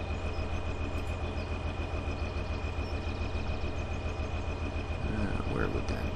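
A tractor engine idles in the Farming Simulator 2013 video game, a steady low mechanical drone with a constant pulsing throb throughout, loud and continuous.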